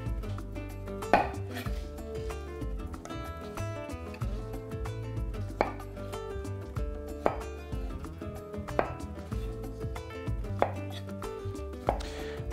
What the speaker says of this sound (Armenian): Սա էլ կտրատենք խորանարդիկների։